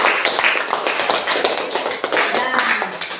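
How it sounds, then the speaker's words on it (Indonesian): Classroom applause for a student group after a presentation: several hands clapping in a dense, uneven patter for a few seconds, fairly close, with some voices mixed in. "Kepada kelompok 2 berikan tepuk tangan sekali lagi"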